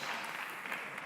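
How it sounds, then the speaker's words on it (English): An audience at a lecture on Reform synagogue music applauds for a professor, a brief, even patter of clapping throughout. "Please clap for the professor."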